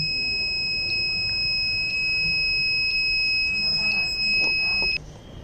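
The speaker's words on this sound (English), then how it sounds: "Then the beeps like it started the timer, and the timer will decreases every second, and once it's below 10 seconds, then alarm on" A PIC microcontroller anti-sleep alarm timer sounds a sharp electronic beep about once per second, five even pulses ending abruptly, over a steady low hum with faint background noise.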